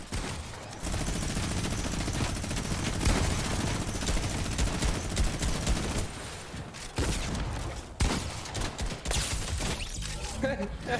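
Video game gunfire: rapid shots and bursts continue almost nonstop through a busy, loud mix, with short sharp breaks near the end and people talking underneath.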